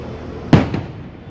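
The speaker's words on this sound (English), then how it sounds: "so good here, the fireworks." A single firework bursts at Disneyland, a sharp sudden boom followed by a short crackling echo that fades over about a second, heard from a distance near a hotel.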